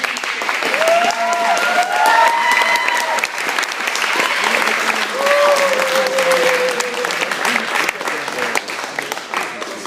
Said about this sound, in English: we want to give one more round of applause to these guys right up here and their task force